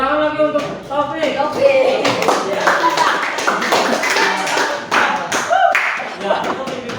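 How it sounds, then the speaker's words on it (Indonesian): A class claps for a pupil named Taufik, the claps coming as dense, uneven taps over a teacher's and children's voices in a classroom. "Tepuk tangan lagi untuk Taufik."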